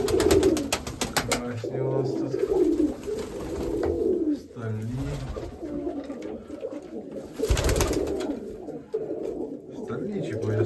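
Mykolaiv-breed pigeons, a black white-tailed bird among them, coo in low rolling bursts close by, mixed with other bird calls while people talk over them throughout.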